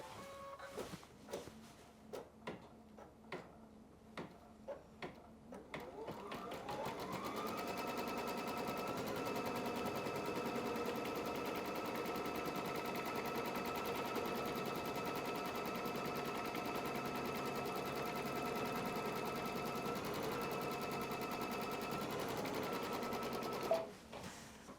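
A sewing machine is set up for quilting. It starts with a few separate clicks, then settles into a steady, rapid mechanical stitching hum that runs evenly for most of the clip before stopping abruptly at the end.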